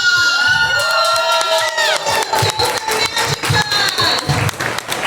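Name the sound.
convention crowd applause and cheering for the winner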